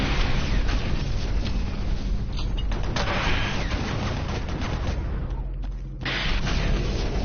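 Rocket launcher fire in the video game DOOM 3, sustained loud blasts and mechanical clanking amid heavy booming combat noise, with a few sharper bursts standing out, no talk.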